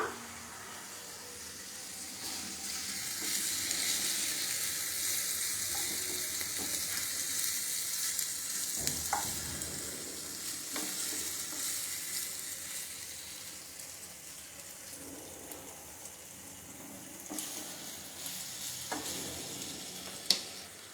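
Paneer cubes frying and being turned in a pan with a steady sizzle, plus scraping and stirring clatter from a spatula and occasional louder clinks. Close up, with no voices.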